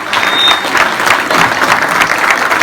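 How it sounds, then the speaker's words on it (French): Loud, continuous applause fills a volunteers' evening for the Foustivités festival in Saint-Servant, a thick wash of many hands clapping close by at a steady level. "un tonnerre d'applaudissements pour Yannick Perrotta"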